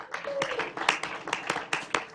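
Audience applause at a Tempe city council work session honoring a retiring Tempe Fire Medical Rescue Department employee; a burst of scattered clapping with distinct claps standing out over a steady patter for a couple of seconds.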